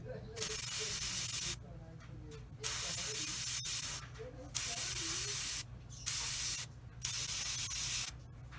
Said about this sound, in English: So let's get the airbrush and let's see.